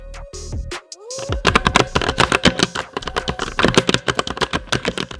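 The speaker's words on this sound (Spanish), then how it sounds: "este al presionar la tecla de inmediato ya está escribiendo y te da esa sensación de fluidez" Rapid typing on a Thunderobot KG3104 mechanical RGB keyboard, a dense run of loud, close key clicks and clacks that starts after a few isolated presses.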